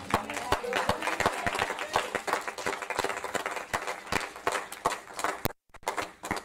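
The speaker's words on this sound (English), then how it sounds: "Can you clap for Jesus better?" A church congregation claps along in quick, uneven bursts, with crowd noise and a preacher's voice running over the applause and a short drop-off near the end.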